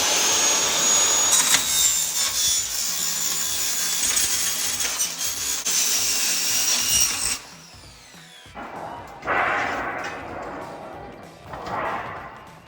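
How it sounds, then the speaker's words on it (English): A power drill drives 1.5 inch wood-tight sheet metal screws with rubber washers through sheet metal into a wooden garden bed, a loud rattling whir for several seconds, then two shorter separate bursts after a pause. "Just screw the sheet metal in"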